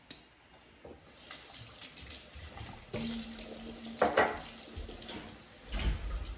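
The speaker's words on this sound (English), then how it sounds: "And then rinse them off." Fruit being rinsed under a running tap in a sink, with a steady stream of water splashing and a few louder splashes and handling knocks near the end, close by and with no talk.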